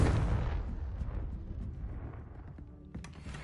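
A Confringo fire spell bursts in Hogwarts Legacy: a heavy boom at the start that rolls off into a fading rumble, followed by a few faint pops near the end.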